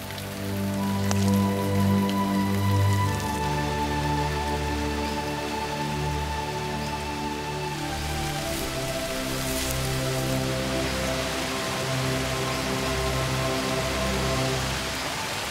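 Steady rain falls through a southern Chinese jungle as the rainy season begins, a continuous hiss of drops on leaves and surfaces alongside sustained tonal hums, even and unbroken throughout.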